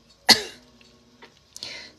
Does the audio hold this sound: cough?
yes